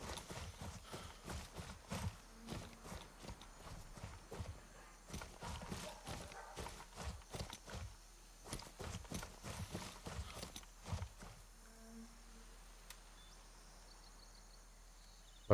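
Flag cloth flapping in the video game Gray Zone Warfare, giving a run of soft rhythmic thumps that mimic footsteps, fairly close and steady for most of the stretch before thinning out near the end.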